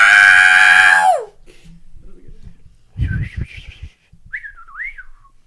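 A person whistles in imitation of the R2-D2 droid, with a long rising-and-falling warble and later short chirpy swoops, broken by laughter and talk between the whistles.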